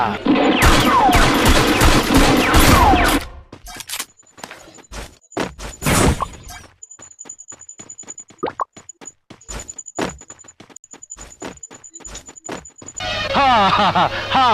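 Sharp, loud pistol gunshots crack in irregular bursts, some single and some in quick succession, with people talking before and after the shooting.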